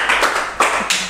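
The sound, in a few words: clapping hands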